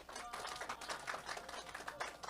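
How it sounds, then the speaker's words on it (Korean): A gathering at a church youth event claps in a brief, quiet burst of scattered handclaps, soft and somewhat distant. "박수 한번 줄래요?"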